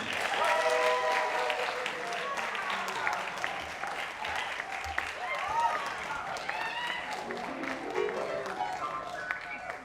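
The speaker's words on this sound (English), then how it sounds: "Storm of applause for Tom Brechtlein." Sustained audience applause for a guest drummer at a jazz and blues camp master class, dense and steady for about ten seconds, with cheering voices mixed into the clapping.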